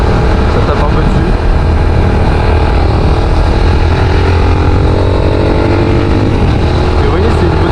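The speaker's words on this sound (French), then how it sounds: "ça fait un peu de bruit. Je suis un peu dans les tours" A Yamaha YBR 125 motorcycle's engine runs at high revs while riding, producing a loud, continuous, droning roar mixed with wind rush and no clear pauses.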